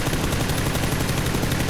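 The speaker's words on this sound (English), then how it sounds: "No, I'm shooting the sky." Rapid automatic gunfire from a PUBG match, a steady dense rattle of shots that runs without a break for under two seconds, fairly loud and close, with no one talking over it.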